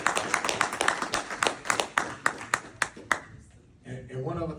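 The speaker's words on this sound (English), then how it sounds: "So we want to give another round of applause to Mr." An audience at a community talk gives a round of applause, a burst of scattered, sharp hand claps that thins out after about three seconds before a voice begins speaking.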